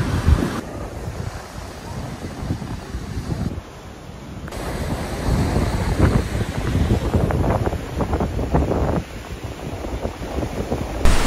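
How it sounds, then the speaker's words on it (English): Strong wind buffets the microphone in loud, roaring gusts, with crashing surf underneath rising and falling throughout, on a black sand beach on the Big Island of Hawaii. "It's pretty windy over here."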